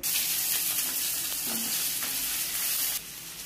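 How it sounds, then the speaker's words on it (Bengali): Onions frying for pulao in a pan, a steady close, loud sizzle running throughout with faint stirring knocks, easing slightly near the end. "পোলাও পেঁয়াজ ভাজতেছি, তোমরা দেখো সবাই"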